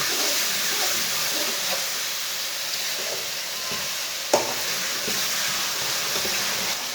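Chopped tomatoes and green chillies cooking in a pan, a continuous gentle sizzle and bubbling hiss with one brief knock midway.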